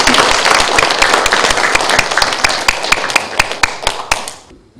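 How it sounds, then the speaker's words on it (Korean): Close, loud clapping from an audience at an academic symposium, with sharp individual claps standing out over the crowd before it thins and stops abruptly. "내년에도 정말 잘 이루어질 수 있도록 박수로 후원해 주시기 부탁드립니다"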